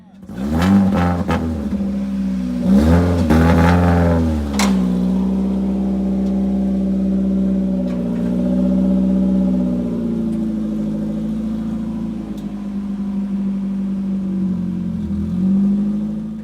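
A car engine revs up hard with a couple of sharp bursts, then settles into a steady, loud drone as the car creeps forward slowly onto a two-car transport trailer.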